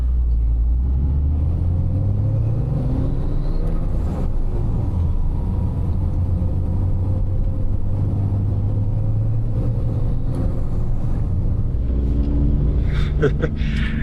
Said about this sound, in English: this street, this intersection is total chaos